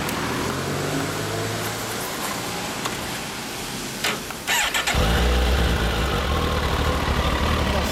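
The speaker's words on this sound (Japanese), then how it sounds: "エンジン音聞かせてもらえますか？" A 2010 model motorcycle engine starts up and settles into a loud, close, rumbling idle, its deep throb steady through the second half.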